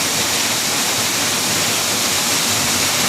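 Marapay Falls, a waterfall by a forest trail, pours as a steady, dense broadband rush of water that stays constant and fairly loud throughout, with no voices.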